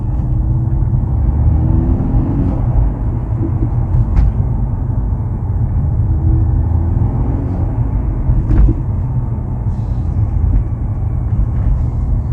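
A 2023 Mercedes-AMG C43 in Sport Plus mode on a night drive, heard from the cabin as a continuous deep engine and road rumble, steady and loud without breaks.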